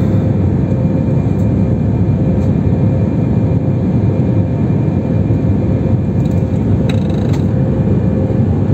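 Steady, loud, close cabin roar inside an Air France airliner climbing out of Athens on the way to Paris, a continuous engine and airflow drone with no talking.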